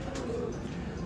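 Pigeon cooing, Abdullah Khan's show pigeons, a soft low continuous coo held steady through about a second alongside faint ambient noise.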